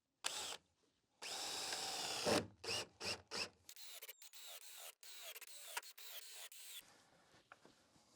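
A power drill bores holes into wooden deck boards for an octagonal gazebo floor, with bursts of whirring and grinding separated by short pauses, then lighter rubbing and handling noises, close and alone.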